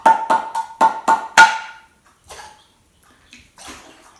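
Water sloshing inside a glass mason jar sealed with a screwed-on metal lid, played like a drum: six sharp, evenly spaced ringing knocks, then a few fainter sloshes and rattles, close and loud with no voices.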